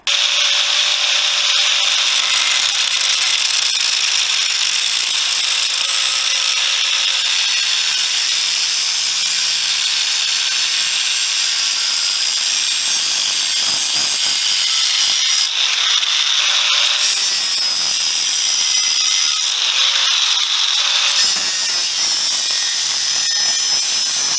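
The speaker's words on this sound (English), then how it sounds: "So I'm going to cut a piece of tube to straddle that break." A length of tube being cut with a saw, a loud, steady rasping that runs continuously for the whole stretch with brief changes in pitch near the end.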